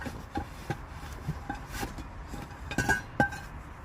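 Metal cookware clinks and clatters in scattered, irregular knocks as pans are moved about, fairly close and moderately loud.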